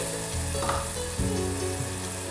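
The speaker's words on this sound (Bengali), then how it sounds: "এর মধ্যে আমি বড় একটা টমেটো অ্যাড করে দিচ্ছি" A large tomato goes into spice masala frying in a pan for Bengali aloo dum, giving a steady loud sizzle with a brief stirring scrape and a shift in the frying hiss, close up and without speech.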